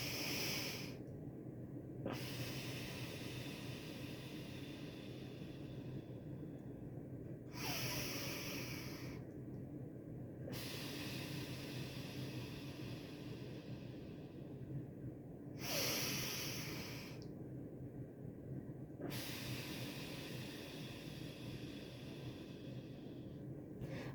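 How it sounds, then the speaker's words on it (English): Slow, deep breaths during a guided breathing exercise: long, loud, hissing inhales and exhales continue close to the microphone, broken by three brief pauses, with no talking. "Let's do our breathing techniques."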